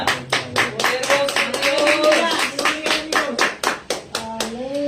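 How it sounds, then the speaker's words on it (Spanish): A church congregation claps hands together in a steady, brisk rhythm, many sharp close claps repeating evenly for the whole stretch, with voices sounding faintly beneath. "denle una ofrenda de palmas a Dios"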